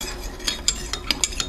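A spoon stirs a Sparkolloid fining mixture into a Winexpert chocolate raspberry port wine kit, giving a run of light, evenly spaced clinks and scrapes against the vessel over a low, steady background.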